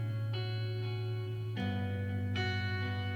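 A sustained, buzzing electronic tone loop with gritty harmonics, shifting pitch in a few abrupt steps, continuous and loud with no pauses.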